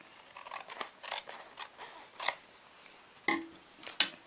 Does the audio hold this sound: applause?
no